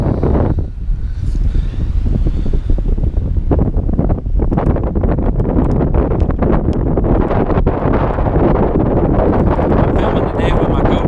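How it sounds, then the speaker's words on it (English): Strong wind buffeting a GoPro outdoors beside beehives, a loud, continuous low rumble of microphone wind noise with gusts throughout and no clear talk. "because of how windy it is out here"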